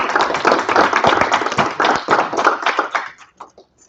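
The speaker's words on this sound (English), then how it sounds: "How about a round of applause for?" Applause from a small audience at a Clifton Park town board meeting, dense clapping that thins out toward the end and fades into a few scattered claps.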